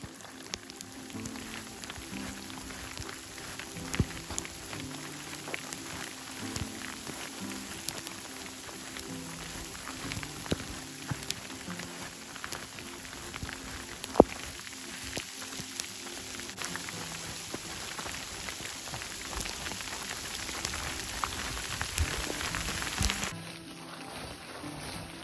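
Small hail balls pattering steadily on the ground and gear along the Pacific Crest Trail in southern Oregon, a dense continuous crackle with scattered sharper ticks, close and fairly even throughout.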